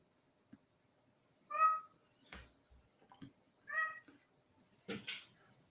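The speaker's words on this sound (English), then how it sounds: "I think you could hear my cat." A cat meows twice, clear and fairly near, with a few soft thumps and small noises between the calls in an otherwise quiet room.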